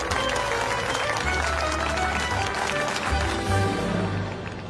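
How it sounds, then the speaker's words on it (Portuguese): A crowd breaks into applause, a dense patter of clapping that swells and holds for several seconds with faint voices mixed underneath. "senhoras e senhores, queiram aplaudir a nova presidente da Sex Delícia"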